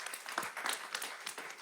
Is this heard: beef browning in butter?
no